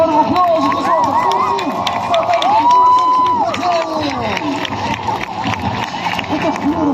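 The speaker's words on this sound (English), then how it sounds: "let's give them a warm round of applause" A crowd cheering and clapping at an outdoor show, broad continuous noise with voices rising over it throughout, fairly loud and steady.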